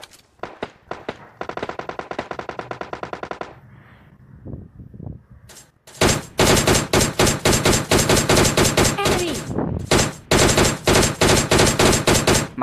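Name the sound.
gunfire in a shooting video game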